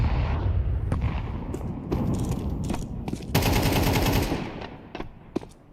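Rapid bursts of MP9 submachine gun fire in a Counter-Strike match, loud and close, with a dense sustained spray in the middle and scattered single shots trailing off at the end; no talking.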